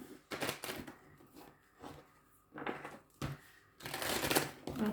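Tarot cards being shuffled by hand, several short riffling bursts separated by pauses, quiet and close, with the last burst longer and fuller.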